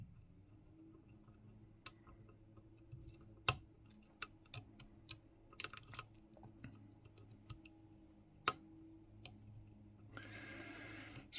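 Lock picks work inside a challenge lock with faint, sparse metallic ticks and small clicks scattered against quiet background hum. A short rustle of handling follows at the end.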